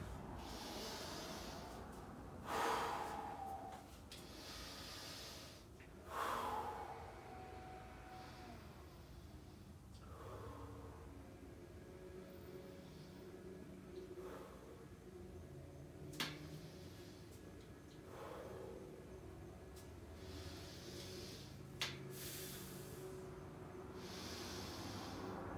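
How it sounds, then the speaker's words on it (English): Deep, forceful breaths during a breathing exercise in a workout session, several loud inhales and exhales with sharp snort-like bursts, close and repeated over steady room noise, no talking. "Breathing exercise."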